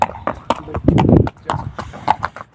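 Horse hooves clip-clop in a quick uneven rhythm on a farm, loud and close, the horse being thirty months old, with someone talking over the steps.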